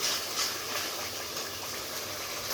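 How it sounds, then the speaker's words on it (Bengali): Fish curry being sautéed with salt and turmeric in a pan gives a steady, even sizzle and hiss, close and fairly faint, continuing without break. "লবণ দিয়ে দেব হলুদ দিয়ে দেব এবার একটু আর কষাবো"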